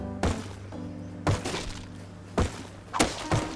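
A thrown spear striking a player in the video game Rust: four dull, thudding impacts spaced about a second apart, fairly close and with no voices over them.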